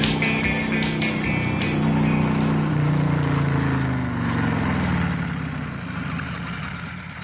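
A motorcycle engine runs close by with a throaty, droning tone as the throttle is opened. The rising and falling revs hold strong for several seconds before the sound tapers and fades toward the end.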